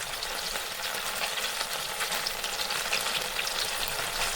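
Longganisa sausage frying in a pan, giving a steady close sizzle with fine crackling that runs unbroken throughout, with no voices.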